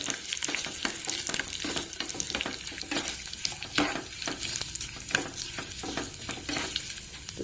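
Tempering of seeds, curry leaves and asafoetida frying in oil for a chutney: a steady close sizzle broken by frequent rhythmic scraping strokes of a stirring spoon against the pan, with no voices.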